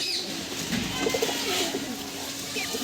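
Soft cooing of high-level flying pigeons in a loft amid a steady noisy background, fairly faint and partly buried in ambient hiss.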